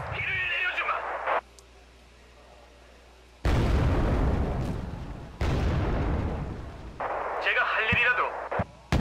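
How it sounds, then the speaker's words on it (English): Grenade launchers in Wargame Red Dragon pelt a forest with grenades, loud broadband bursts of rapid firing and detonations in two long stretches, a brief quieter gap between them and lighter chatter at the edges. "these things just kind of spurt out the grenades"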